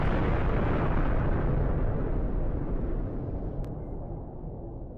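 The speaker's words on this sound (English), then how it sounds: "I'm gonna blow them to smithereens with the nuclear bomb" Nuclear bomb blast in Minecraft, a huge roaring explosion that starts at full force and rumbles on as a dense, slowly fading wash of noise, with no talk.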